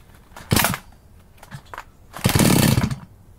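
A chainsaw being cold-started on full choke: two loud bursts of its small engine sputtering and revving, a brief one early and a longer roar near the end, with quiet gaps between.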